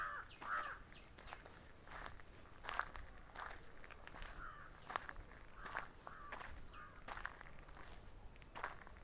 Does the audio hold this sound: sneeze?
no